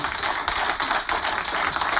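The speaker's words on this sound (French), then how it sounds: "Merci Totem, on applaudit bien fort." An audience in a radio station's large studio clapping for a performer, a fast, dense burst of hand claps with a steady rhythmic pulse, loud and close for about two seconds.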